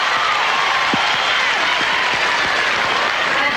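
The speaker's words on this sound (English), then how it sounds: "Crowd really getting into it." A tennis crowd at a 1997 women's final applauds and cheers, sustained dense clapping filling the arena from a distance, with a few faint voices in the mix.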